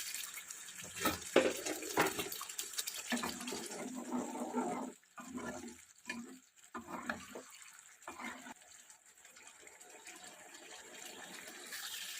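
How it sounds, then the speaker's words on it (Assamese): Water pours into a pan of paneer masala curry, a splashing gush followed by gentler bubbling and intermittent pouring that tapers into quieter, broken sizzling. "অলপ পানী দিছোঁ জোখমতে।"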